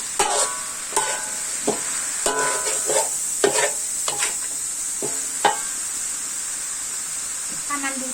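Pork and large chili peppers being stir-fried in a pan, a steady sizzle and hiss running throughout with repeated sharp scrapes and clinks of a spatula stirring at a moderate, irregular pace close by.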